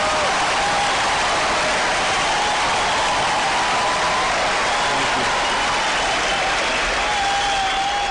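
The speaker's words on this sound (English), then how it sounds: "I can't really get through the day, my show anymore, unless I get some applause" Recorded applause played from a sound-effect machine, a steady, loud wash of many hands clapping that holds unbroken at an even level throughout, with no pauses.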